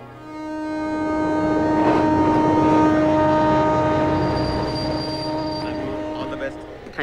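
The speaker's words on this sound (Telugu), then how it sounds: "ట్రైన్ బయలుదేరడానికి టైం అది" A passenger train about to leave a station sounds a long, loud, steady horn that swells and then fades over several seconds, with rumbling rail noise beneath it.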